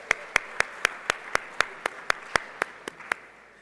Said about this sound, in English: A round of applause, come on.